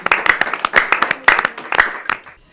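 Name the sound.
applause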